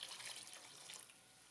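Water pouring into a cooking pot of strained chicken yakhni stock for pulao, a steady broadband splashing stream that fades slightly toward the end, heard alone.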